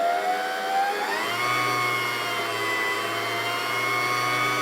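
An Elna 320ex sewing machine runs steadily under foot pedal control, a loud continuous motor whine that rises in pitch early on, then holds an even hum with no talk.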